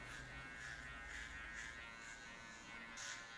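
Electric hair clippers fitted with a number 4 guard trim the sides of a high fade haircut, making a soft, steady buzz that pulses gently with each pass.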